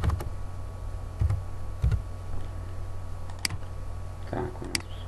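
Someone types on a computer keyboard, producing scattered, crisp key clicks in short irregular bursts against a quiet room.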